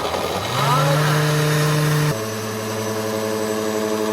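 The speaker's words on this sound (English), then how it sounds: "let's go ahead and blend that" A countertop blender whirring through Jello mixed with milk, a loud steady motor drone that starts up, holds, then drops to a lower sustained pitch as the load shifts, with no talking over it.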